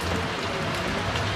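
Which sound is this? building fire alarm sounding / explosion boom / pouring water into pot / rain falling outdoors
rain falling outdoors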